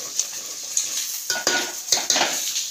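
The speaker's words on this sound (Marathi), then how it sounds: "थोडासा मसाला फ्राय होऊ देऊ तेलामध्ये" Masala sizzles in hot oil for a chicken curry, a steady crackling hiss with a few sharp stirring scrapes and clinks of a spoon against the pan near the end, close and fairly quiet.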